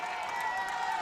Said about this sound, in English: That's got the crowd up and about.